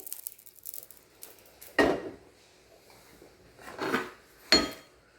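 Sautéed okra and onion are tipped from a pan into cooked dal for sambar, with three separate clunks and scrapes of a utensil against the vessels, close by and spaced out.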